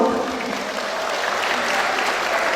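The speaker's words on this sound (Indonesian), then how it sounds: "Tepuk tangan bagi kita semua." Graduates and guests at a university graduation ceremony break into steady, loud applause, a dense wash of clapping from a big crowd lasting a few seconds.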